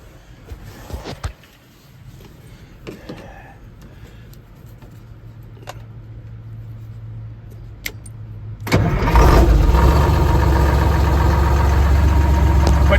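A 1974 Diamond Reo truck with a newly installed starter relay: a few quiet clicks and rattles, a low grinding crank building for several seconds, then the engine catches and settles into a loud, steady rumbling idle.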